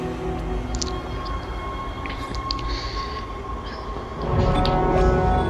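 In the video game Dead Space, a tram rumbles along its rails with a steady mechanical hum and faint chimes, the roar swelling louder near the end, with no voices.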